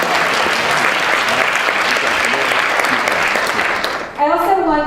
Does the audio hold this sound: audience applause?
yes